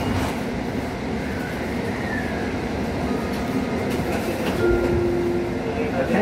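A Hudson-Bergen Light Rail train bound for Tonnelle Avenue runs steadily with a constant rumble and faint wheel squeals, close and fairly loud, with no talking.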